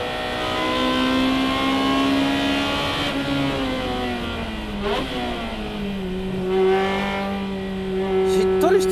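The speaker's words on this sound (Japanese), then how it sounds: "明らかに360の方が攻め込んでいる走り" Tuned Ferrari 360 driven hard around a race track, its engine revving loud and close, rising and falling through gear changes with shifting pitch and a brief tire squeal near the end.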